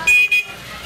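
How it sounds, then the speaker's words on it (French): A loud car horn blares in two quick toots, the first longer, as vintage vehicles move in a summer bathers' festival parade through a French seaside town. "les véhicules sont actuellement en mouvement"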